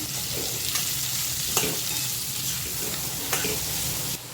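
Vegetables with potatoes, curry leaves, salt and fresh coriander being stirred in a pan for a fasting thali, a steady soft sizzle with a few sharper scrapes of the spoon, close by, no talking.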